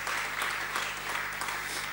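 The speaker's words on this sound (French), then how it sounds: "Donnez une acclamation à Dieu, mes amis." A church prayer-meeting congregation applauding and acclaiming in praise, steady dense clapping with a crowd wash that holds evenly for two seconds at moderate, slightly distant level.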